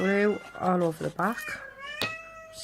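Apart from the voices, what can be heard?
cat meowing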